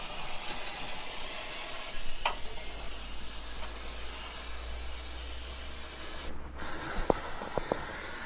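Cleaner sprayed onto the oily underside of a Holden HK, a steady soft hiss punctuated by a few short bursts and clicks of the spray trigger near the end.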